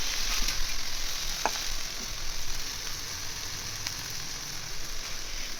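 Potatoes sizzle in hot oil for a Bengali village-style egg curry, a dense, even frying hiss held close and steady throughout, with a faint scrape or two of stirring and no talk.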